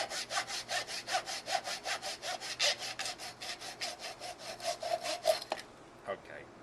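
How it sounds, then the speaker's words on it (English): A hand saw cutting through the wood of a segmented bowl, about two dozen quick, even back-and-forth rasping strokes, close and fairly quiet, ending with a couple of slower strokes. "we're going to take a saw and just finish it off"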